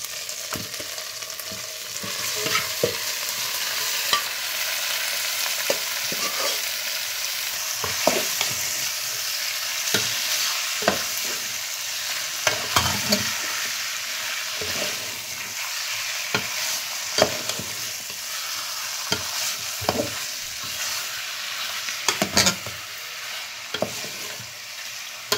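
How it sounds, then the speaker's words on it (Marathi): Chicken frying in an onion masala tempering with turmeric and ginger-garlic paste, a loud continuous sizzle up close with regular scraping clicks of a spoon stirring the pan, and no voices. "त्यानंतर आपण टाकणार आहे आता चिकन फोडणीला"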